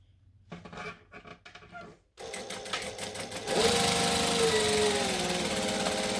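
Sewing machine backstitching through vinyl, a few short bursts of stitching, a brief pause, then a long continuous run of loud, fast mechanical whirring close to the microphone.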